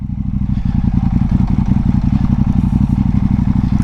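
A KTM 790 Duke motorcycle engine pulls low in third gear at about 1300 RPM, a loud, steady, rough, pulsing drone with a slightly jerky, clattery throb, close and continuous with no talk.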